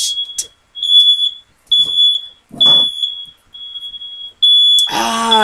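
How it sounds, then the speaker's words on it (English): Indoor smoke alarms set off by heat from a heat gun, sounding a piercing electronic tone in repeated bursts with short gaps, close and loud, while a few short noises fall between the bursts. "I guess from using the heat gun, it made my fire alarms go off."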